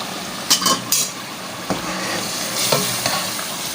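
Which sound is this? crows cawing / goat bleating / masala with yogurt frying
masala with yogurt frying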